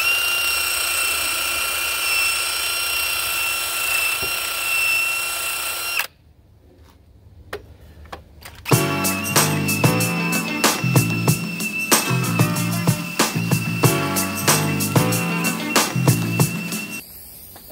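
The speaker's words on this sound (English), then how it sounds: "You can affix a wire brush to your drill. I'm gonna clean up this mating surface." A power drill with a wire brush cleans a thermostat housing mating surface on a Jeep Cherokee XJ engine, whirring steadily, pausing briefly, then grinding again loud and close with a rough, scratchy buzz.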